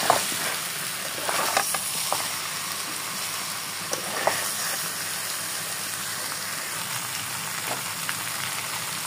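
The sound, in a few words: potatoes and jackfruit being stirred and fried in a pan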